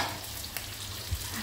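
Garlic sizzles in hot oil in a pan, a soft steady frying hiss with a faint scrape or two of stirring, close and fairly quiet.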